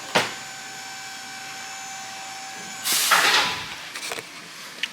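A shop vacuum in an engine workshop building a small-block Chevy with aluminum heads clicks on after a sharp knock and hums steadily, then a louder blast of airflow surges before tapering off with a few clunks.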